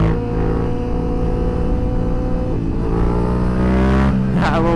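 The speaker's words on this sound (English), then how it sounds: "A little wheelie for the Harley." Harley-Davidson motorcycle engine revving hard during a wheelie, a loud, steady, close-up roar whose pitch climbs and surges toward the end.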